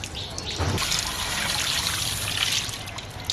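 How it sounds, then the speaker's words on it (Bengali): Tap water running steadily over a hilsa fish being washed after scaling, a close trickle and splash with a brief louder gush near the start. "প্রথমে আমি আঁশ ছাড়িয়ে পরিষ্কার করে ধুয়ে নিচ্ছি"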